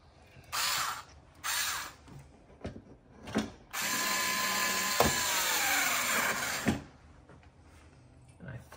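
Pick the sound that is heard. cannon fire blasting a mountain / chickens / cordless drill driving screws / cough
cordless drill driving screws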